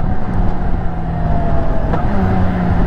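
BMW K1600B Midnight Edition motorcycle's inline six-cylinder engine running under way, a loud steady droning hum with wind rush and no talking.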